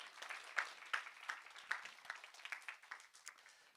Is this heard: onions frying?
no